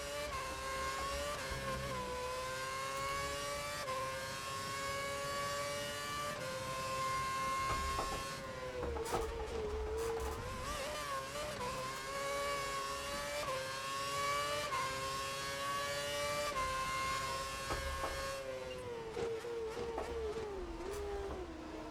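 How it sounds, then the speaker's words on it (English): Formula 1 race car engines in the F1 2011 video game at the Canadian Grand Prix, a loud continuous high-pitched engine whine with rising and falling revs through gear changes, steady throughout. "That's Massa. Go for the overtake."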